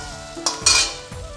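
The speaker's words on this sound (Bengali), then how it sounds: "এই নেড়ে চেড়ে দিচ্ছি।" Potatoes frying in a pan for a fish curry, stirred with a utensil: a few sharp scrapes and clinks over a low sizzle, close by, with no one speaking.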